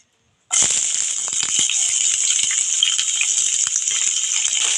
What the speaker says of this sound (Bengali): গরম হয়ে গেছে, যে তেলটা দিয়েছিলাম, এবার আমি পেঁয়াজটা দিয়ে দিচ্ছি।